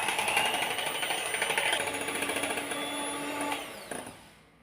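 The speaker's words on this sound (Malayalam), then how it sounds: "ഞാൻ ആദ്യം ലോയിലിട്ടാണ് ബീറ്റ് ചെയ്യുന്നത്" An electric hand mixer on low speed beats half a cup of whipping cream in a bowl, a steady buzzing motor hum with rattling whir that holds evenly, then fades and stops near the end; no talk.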